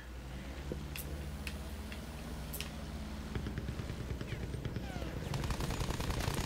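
Rapid machine gun fire aimed at German aircraft in the Battlefield 1 video game, a continuous rattling burst that grows denser and louder toward the end, with no talking.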